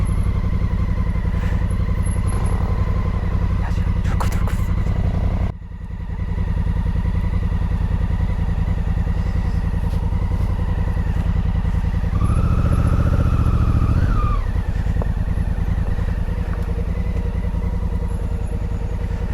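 An everyday motorcycle rides a narrow green lane, its engine a steady loud drone close by, dipping briefly mid-ride before the throttle swells again.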